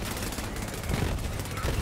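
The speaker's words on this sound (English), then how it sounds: "Explosion after explosions while constantly shooting." Gunfire and explosions from the video game Borderlands 3 form a dense, continuous barrage of loud shots and blasts.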